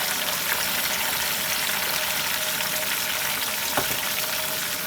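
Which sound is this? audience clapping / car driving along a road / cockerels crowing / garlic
garlic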